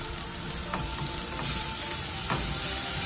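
Garlic sizzles steadily in hot oil in a pan, a constant close frying hiss broken by a few soft scraping stirs, with no talking.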